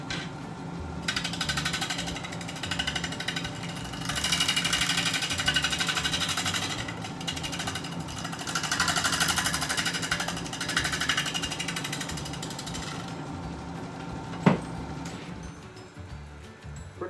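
A bowl gouge cutting wood on a lathe that vibrates heavily, giving a rough cut: a continuous loud rattling, buzzing grind that swells and eases for many seconds, with one sharp knock near the end.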